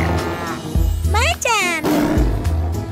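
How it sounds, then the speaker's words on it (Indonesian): A tiger roar in an Indonesian children's song, a loud growling cry with rising and falling pitch, set between sung lines and likely voiced by a performer. "Macan, rar."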